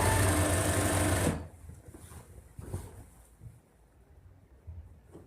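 A sewing machine stitches the side seam of a kurta sleeve in a fast, buzzing run for just over a second, then stops. Only faint handling noises follow.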